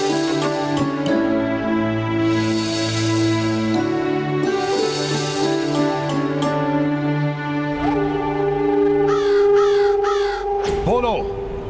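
Crows cawing repeatedly over loud devotional music with sustained tones and a voice, the harsh calls rising in bursts in the first half and fading toward the end.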